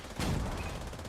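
Gunfire in The Division 2: a burst of loud, sharp shots erupts after a brief quiet, followed by a steady rattle of continued fire and game noise throughout.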